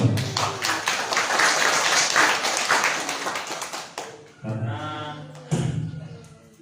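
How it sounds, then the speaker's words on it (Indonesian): Students at a school orientation event clap for a guest speaker, a burst of loud mixed claps that dies away after about four seconds, then a short stretch of other sounds with voice-like tones. "Tepuk tangan untuk beliau."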